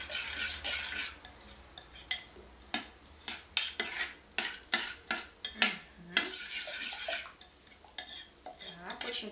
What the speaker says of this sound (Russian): Размешиваем.